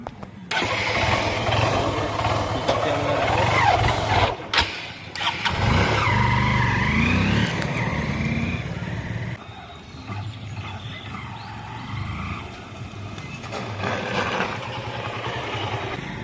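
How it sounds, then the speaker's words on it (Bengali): A Honda Unicorn motorcycle engine starts and runs steadily through a test ride on a roadside, a loud, continuous rumble with wind-like noise and a brief drop in level partway through. "চলো গাড়িতে পুরো আমরা চালিয়ে দেখলাম পুরো স্মুথ পিক আপ এসে গেছে আমাদের বাইকে"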